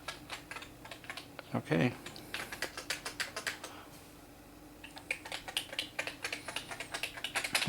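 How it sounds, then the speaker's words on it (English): Keystrokes clatter on a Commodore Plus/4 keyboard during shift-key testing, coming in uneven bursts of close, crisp clicks with a brief spoken word early on. "I'm going to go ahead and make sure both shift keys work."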